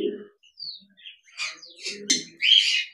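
Caged pet zebra finches at a bird farm give short, bright chirps and tweets in scattered bursts, fairly close and growing busier toward the end, with no talking.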